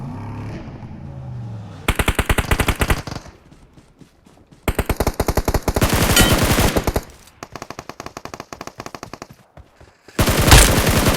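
PUBG Mobile gunfire comes in several loud, close bursts of rapid automatic fire, with short pauses and quieter stretches between the volleys.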